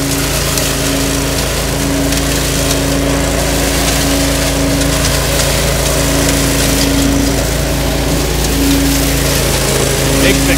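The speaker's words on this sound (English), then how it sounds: "what we're doing here is vacuuming leaves" Steady, loud roar of a leaf vacuum sucking up fall leaves during a professional yard clean-up in Greenland, New Hampshire, with a constant engine drone under a gritty rattle of debris.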